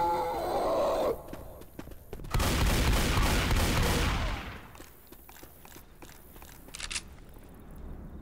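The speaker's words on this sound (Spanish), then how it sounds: "qué malos disparos" Game gunfire from Left 4 Dead 2: a short burst of shots, a break, then a loud sustained volley lasting a couple of seconds that trails off into scattered quieter pops.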